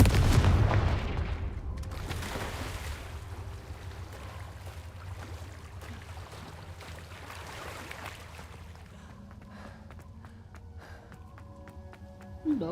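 A Confringo blasting spell erupts in Hogwarts Legacy, a loud booming burst at the start that fades into a low rumbling tail, followed by quieter game ambience and a sharp hit at the very end.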